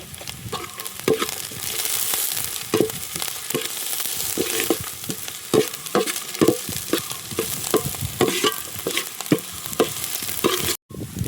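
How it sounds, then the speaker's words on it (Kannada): Green chillies and chopped ginger fry in hot oil, giving a steady sizzle broken by repeated scraping stir strokes in the pan. One brief dropout comes near the end, and no one speaks. "ಹೆಚ್ಚಿರ್ತಕ್ಕಂಥ ಶುಂಠಿ ಹಾಕಿ ಫ್ರೈ ಮಾಡ್ಕೊಳ್ಳಿ."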